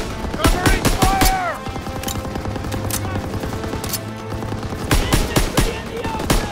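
Call of Duty machine gun covering fire, rapid bursts of loud gunshots up close in the opening seconds, then a steady rumble of distant firing and fresh volleys near the end, with soldiers' voices calling out over it.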